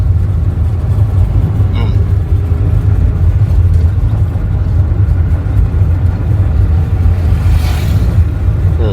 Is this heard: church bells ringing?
no